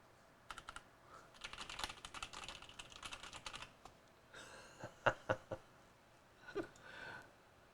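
Keys on an RGB gaming keyboard clatter in quick irregular bursts of typing, then a few louder separate presses, close up in a quiet room.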